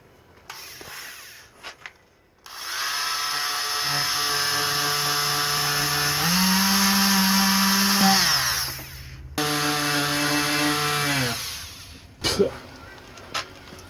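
A Ridgid power tool runs on timber on a boat hardstand, a close, loud motor whine that rises in pitch under load, pauses briefly, then runs again before stopping.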